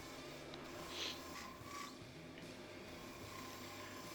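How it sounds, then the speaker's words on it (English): A wood lathe tool peels shavings from a vase blank as it turns, giving a steady, close, raspy scraping that runs the whole time with small swells in the middle and no talking. "You can see I'm actually getting some pretty decent shavings here now."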